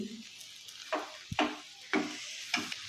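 Fresh grated coconut mixture for garden cress seed laddoos stirred in a pan over a low flame: four or five quiet, distinct scraping strokes with a gentle sizzle between them.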